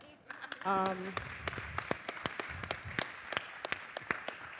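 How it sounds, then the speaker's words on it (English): Scattered audience clapping at a blockchain summit panel on real estate, sparse distinct claps spread across the room, with a short vocal sound near the start and background murmur. "you can clap for that"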